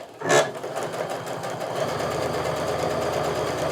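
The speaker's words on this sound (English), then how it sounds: "I am lining up the edge of my presser foot with that drawn line, and I'm just going to sew right down it" A sewing machine stitches quilt fabric along a drawn line with the presser foot edge following the mark, humming in a fast, even, continuous rhythm close by after a brief louder start.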